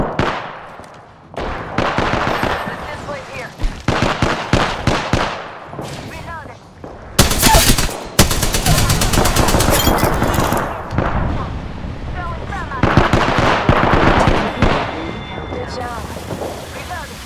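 Rapid bursts of automatic gunfire from a first-person shooter battle royale game, loud and close, with short pauses between volleys and a voice talking over the action.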